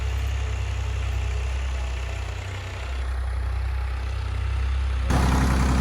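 A tractor engine hauls a plank leveller (suhaga) across a freshly sown sorghum field in Punjab, a steady low diesel drone that dips slightly midway and steps up louder near the end.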